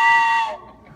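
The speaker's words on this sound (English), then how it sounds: "That's a train whistle" A toy train whistle gives one loud, bright toot that cuts off after about half a second.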